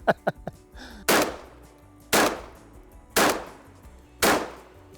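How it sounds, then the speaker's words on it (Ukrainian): A Typhoon shotgun fitted with a Benelli M2 bolt fires four loud, booming shots spaced about a second apart, after a few quick sharp mechanical clicks at the start. "ми змінили затвор, встановили його від Benelli м 2 в рушницю тайфун і зробимо декілька пострілів"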